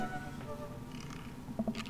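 A cat in a dating-sim game purrs faintly and steadily, with a couple of brief higher calls near the end.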